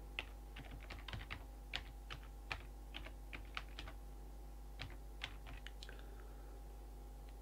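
Computer keyboard typing comes as scattered, crisp keystrokes in short irregular runs, close but quiet, over a steady low electrical hum.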